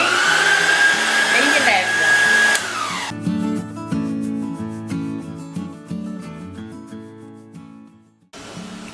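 An electric hand mixer beats cake batter with a loud, steady motor whine. It cuts out briefly, runs on for several seconds, then stops, with faint talk in the background.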